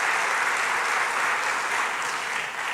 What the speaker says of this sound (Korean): 우리 아이들에게 격려 감사 박수 한번 쳐주세요.